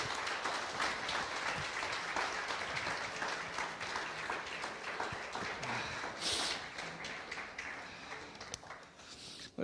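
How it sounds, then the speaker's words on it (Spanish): Congregation clapping during a church service, a dense, lively patter of many hands that stays fairly even, with a brief louder burst near the middle and no clear speech on top. "You can clap for Jesus."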